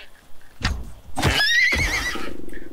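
A terror horse in the survival game Icarus gives a loud, wavering neigh after a few low snorts and thumps, its shrill whinny rising and fluttering near the middle before trailing off.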